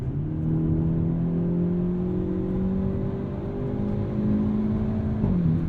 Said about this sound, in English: A little pop on the upshift there as well.